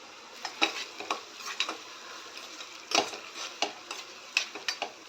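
Ginger garlic paste fries over a medium flame, a soft low sizzle punctuated by sharp, irregular clinks and scrapes of a spoon stirring against the pan.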